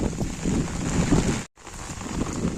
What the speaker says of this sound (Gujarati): ધોધમાર વરસાદ છે અને આપ જોઈ શકો છો વરસાદના હોકળા ચાલુ છે અત્યારે